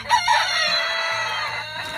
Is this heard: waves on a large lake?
no